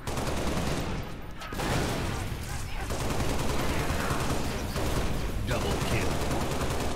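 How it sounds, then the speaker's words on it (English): Grenade launcher fire in Halo: Reach Firefight, loud and dense among continuous gunfire and explosions, with brief talk underneath. "Grenade launcher."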